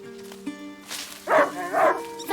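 A dog in A Plague Tale: Innocence gives a few short yips and barks, close and moderately loud, following a steady tonal hum at the start.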